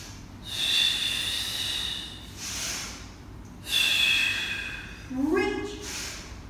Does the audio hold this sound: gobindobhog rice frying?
no